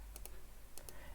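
Two quick pairs of computer mouse clicks, crisp and close, separated by a short pause, as alerts are added on a crypto trading chart.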